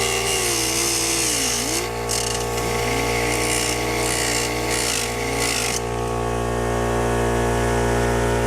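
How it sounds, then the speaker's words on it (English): A power tool notches the plastic housing of an aftermarket Android radio so trim fits in a Toyota Corolla, a steady loud mechanical grinding whine with shifting pitch for about six seconds, then a lower steady motor hum. "So we'll need to notch the radio in order to fit the trim."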